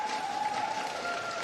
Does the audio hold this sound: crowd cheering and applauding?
yes